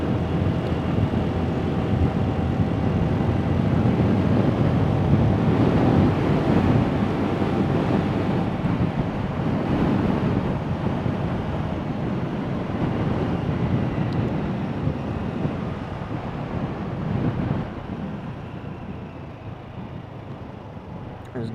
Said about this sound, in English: It's a pretty windy day.